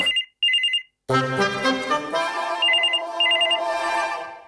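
An electronic phone ringtone trills in short repeated bursts, then a bright melodic tone plays while the ringing pattern keeps returning.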